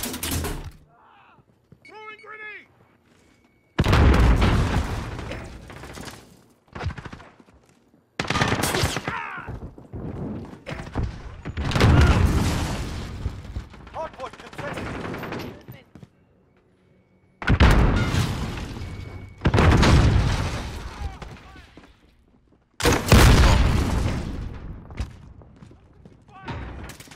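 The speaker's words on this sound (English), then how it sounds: "Throwing grenade!" Gunfire and a grenade blast in Call of Duty Warzone, with loud bursts of shots and heavy booms in several clusters separated by quieter gaps, and voices speaking over the action.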